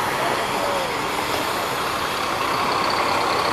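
A Danger Boy bus engine pulling away from a terminal, a steady loud broadband rumble with road noise throughout.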